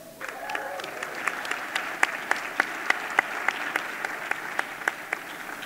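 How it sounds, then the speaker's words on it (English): A round of applause from an audience of students and faculty at a Harvard University event. Steady clapping from the room with distinct individual claps standing out, moderately loud and sustained throughout. "Let's have a round of applause."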